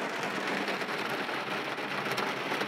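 Steady summer rain patters and drips nearby in an even, continuous hiss of drops, heard alone without talk.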